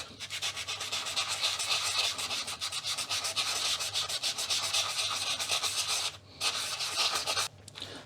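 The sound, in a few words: sanding plastic RF modulator cover of Amiga A1200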